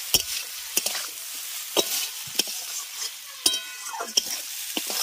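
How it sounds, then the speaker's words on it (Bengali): Potato and eggplant strips fry with spices in oil for a mustard-greens chorchori cooked in fish oil, with a spatula scraping and stirring in sharp, irregular strokes over a steady low sizzle, close and with no talk. "এবার মশলার সঙ্গে প্রথমে আলু আর বেগুনটাকে আগে একটু ভেজে নেব"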